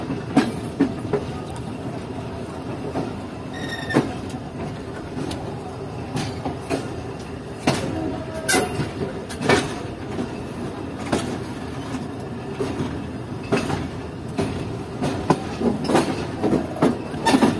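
Mohen Jo Daro Express train running on Main Line 2 near Kotri Junction in Pakistan, a continuous rolling rumble with irregular clanks and clicks of wheels over rail joints, heard from inside the moving train.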